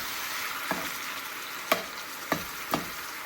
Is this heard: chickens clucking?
no